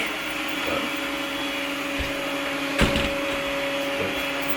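A robot vacuum cleaner runs with a steady whirring drone and a constant tonal whine, punctuated by a few soft bumps and clicks.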